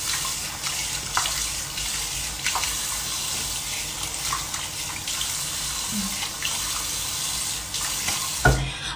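Tap water runs steadily into a sink while someone rinses their face during a morning skincare routine, a continuous close splashing hiss with small bursts of disturbance throughout and a brief louder splash near the end.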